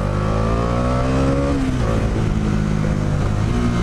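A Bajaj Dominar 400 motorcycle engine under way, loud and close, its pitch climbing under acceleration, briefly dipping around a gear change and then rising again with a steady droning rumble.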